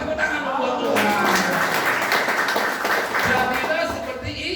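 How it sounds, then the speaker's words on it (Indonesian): A church congregation claps together during a Christmas service for married couples, dense steady applause swelling and holding for several seconds, close and fairly loud, with voices mixed in. "Tepuk tangan buat Tuhan."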